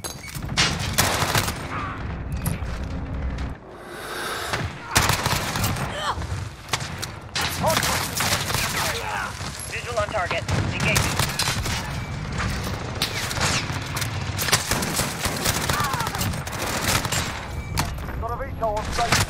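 Rapid bursts of MP5 submachine gun fire in the Modern Warfare video game, repeated volleys with mechanical clicks and thuds, loud and close, while players chatter over the shooting.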